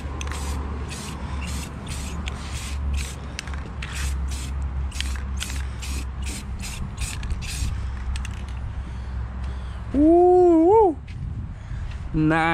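Spray paint goes onto KFX400 ATV wheels in rapid short hissing bursts over a low hum, followed by a brief squeaky, wavering tone near the end.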